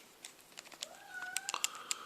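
A house cat meows faintly in the background, a couple of short rising cries over soft tapping that sounds like keyboard typing in a quiet room.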